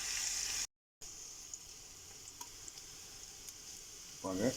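Sliced onions sauté gently in a pan while cooking a Coimbatore-style white chickpea biryani, a soft, steady sizzle holding at low level, broken by a brief gap and a louder stir near the end.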